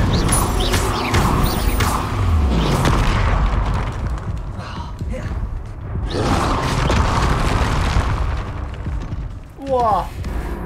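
Incendio fire spell cast in Hogwarts Legacy, heard as loud booming, bursting blasts that come in repeated waves over a dense, continuous game soundscape.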